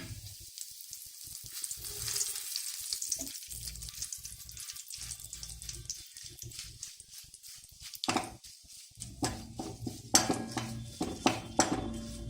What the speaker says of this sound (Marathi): आता कढीपत्ता देखील तळून घ्या.